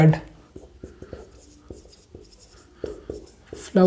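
Marker or chalk strokes on a board come as a series of short, distinct scratches and taps in uneven bursts, close and fairly clear, with a brief bit of voice at the edges.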